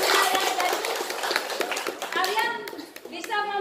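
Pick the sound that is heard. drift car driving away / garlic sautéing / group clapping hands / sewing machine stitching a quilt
group clapping hands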